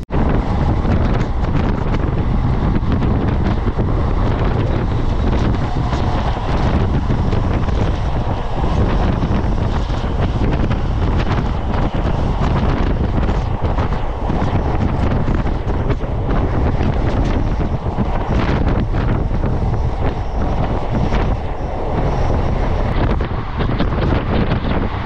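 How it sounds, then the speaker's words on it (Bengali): Strong wind rushes continuously past a moving Haldibari–Kolkata Superfast Express (12364) train, a loud, unbroken roar of buffeting air and rumble filling the whole stretch with no talk. "মনোরম ওয়েদার আছে, হাওয়া দিচ্ছে বেশ।"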